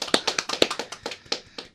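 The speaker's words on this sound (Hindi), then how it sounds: "एक बार जोरदार ताली होनी चाहिए फॉर उर्वशी, कम ऑन" A small studio audience at a Mirchi interview claps to welcome actress Urvashi Rautela: a short run of crisp, close handclaps in a quick, slightly uneven rhythm, with no talking.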